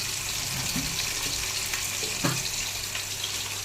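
A small amount of oil heating in a kadai on a home stove gives a steady close hiss and crackle, with a couple of faint clinks, and no voices.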